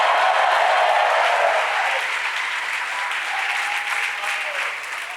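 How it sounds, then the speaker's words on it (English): A church congregation claps and cheers during a sermon, a dense, loud wash of applause with some shouted voices mixed in that tapers slightly toward the end. "You shall clap your hands and shout right about there."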